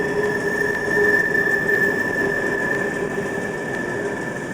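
A streetcar at a museum rolls along rails, its wheel flanges squealing in sustained high, steady tones over continuous rumbling rail noise, loud and close for the whole stretch.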